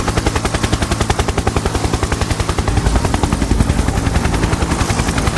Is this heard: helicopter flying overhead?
yes